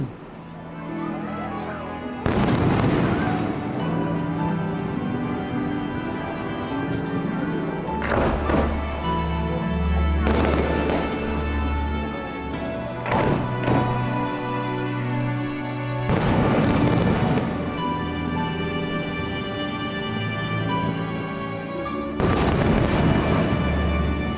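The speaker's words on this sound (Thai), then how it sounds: "มาดูความอลังการของพลุประจำปี พระนครคีรีเมืองเพชรครั้งที่ 35กัน" Annual fireworks display at Phra Nakhon Khiri in Phetchaburi, with repeated loud booming bursts every few seconds, each followed by crackling and rumbling echoes, over a steady crowd murmur.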